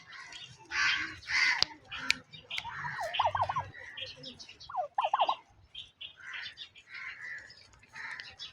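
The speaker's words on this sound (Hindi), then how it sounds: "ये मैंने टर्की बर्ड्स भी खुले छोड़े हुए हैं।" Domestic turkeys let loose outdoors give several rapid, rattling gobbles, loud and close, among scattered clucks and other bird calls across the scene.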